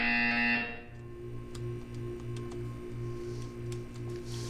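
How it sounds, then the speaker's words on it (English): In the Portal 2 video game, a buzzer sounds during a wellness exercise as a sharp electronic tone that quickly cuts off, followed by a low, steady pulsing hum. "You will hear a buzzer."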